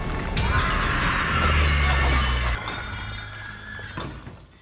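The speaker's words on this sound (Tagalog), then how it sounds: "Nabagsak ni Eric ang palakol, tinamaan ng salamin at nabasag ito." A mirror struck by a dropped axe bursts into a loud, crashing shatter of glass with a low thump, followed by tinkling shards that fade away.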